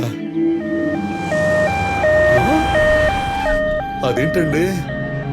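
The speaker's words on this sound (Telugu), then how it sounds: "అంబులెన్స్ అనగానే అలా వచ్చేసింది?" An ambulance siren in a Telugu romantic comedy film arrives as a loud, stepped electronic wail that climbs and falls in a steady tune, with a voice talking over it near the end.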